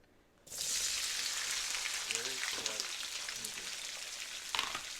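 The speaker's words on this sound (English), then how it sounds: "And now Katie's gonna go ahead and saute those vegetables" Peppers of three colors and other vegetables hit a hot pan and start sautéing: a sudden loud sizzle that holds steady as a continuous crackling hiss, with a stir clatter near the end and faint voices underneath.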